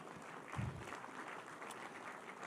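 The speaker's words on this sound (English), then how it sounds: "Give him a round of applause." A town hall meeting audience in Philadelphia gives a soft, fairly distant round of applause, an even patter of clapping with a slight swell near the start.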